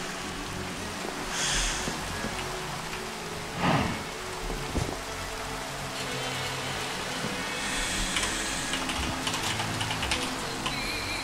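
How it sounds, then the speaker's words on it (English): Steady rain in the Minecraft FTB Continuum modpack, with a soft hiss throughout, a low thunder rumble partway through and keyboard typing clicking on top. "Of course it's raining."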